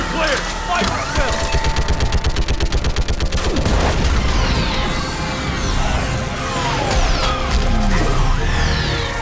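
Rapid video-game gunfire aimed at a Reaper, with dense bursts of shots and mechanical clatter and whooshing effects behind it, loud and continuous throughout.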